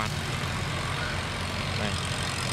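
A river barge engine throttling up, a loud steady low drone and rumble that carries through the whole clip without a break.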